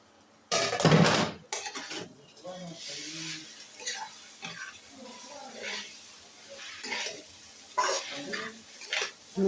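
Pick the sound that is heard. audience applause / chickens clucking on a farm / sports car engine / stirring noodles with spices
stirring noodles with spices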